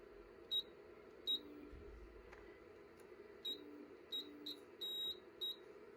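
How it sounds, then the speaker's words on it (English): Several short, high electronic beeps from an Anycubic Photon resin 3D printer sound one after another, some doubled and one held slightly longer, over a steady low machine hum. "it actually started beeping because I pressed it too much"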